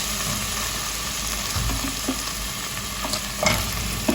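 Diced potatoes sizzle and crackle steadily as they sauté in a hot pan, with occasional stirring scrapes, close and continuous without any talking.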